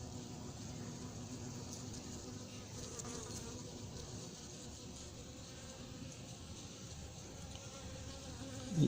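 A steady, dense buzzing of many honeybees flying into a hive at an apiary close by, droning continuously without pause and with no voices.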